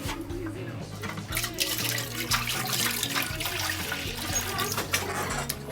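Room-temperature tap water runs and splashes while beer-brewing equipment is rinsed, a steady close rush of liquid mixed with clinks and a low hum, with a voice speaking faintly underneath.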